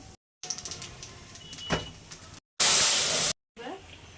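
Nigella seeds tempering in hot white oil for a pabda fish curry, a loud burst of hissing sizzle that flares up for under a second amid quieter kitchen clatter, with short silent gaps around it.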